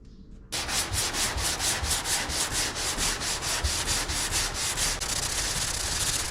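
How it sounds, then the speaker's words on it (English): Steady rhythmic sanding of body filler on a Daihatsu Mira Turbo TR-XX, a rough abrasive rubbing in quick repeated strokes, close and continuous after a brief quiet start. "removing them with body filler, and of course lots of sanding"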